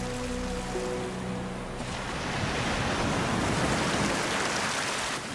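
Ocean waves crash against rocks where red rock crabs cling, a loud continuous roar of surf and spray that swells into a heavier break partway through, with wind buffeting the microphone.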